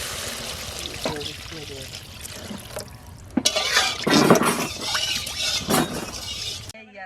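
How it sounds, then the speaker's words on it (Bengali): Water is poured into a chicken curry masala cooking in a pot, a splashing, gurgling stream that swells midway over a sizzling background, with a voice talking over it. "আবার জল দিয়ে দিচ্ছি"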